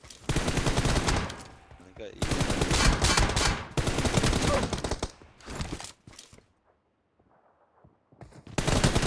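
Loud, close automatic gunfire in the mobile battle royale game PUBG Mobile, coming in several sustained rapid bursts separated by brief pauses and a near-silent gap before a final burst.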